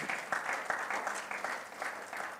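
Congregation clapping during a Sunday worship service, a fairly faint patter of many hands with soft rhythmic peaks, heard alone without voices.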